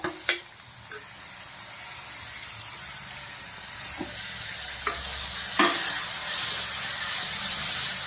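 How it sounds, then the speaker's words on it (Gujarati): Apple and carrot pieces sizzle and hiss steadily as they roast in ghee in a pan, with a few sharp stirring scrapes cutting through the close, continuous frying noise. "એપલ ગાજરને સરસ મજાના શેકવાના છે ઘીના અંદર"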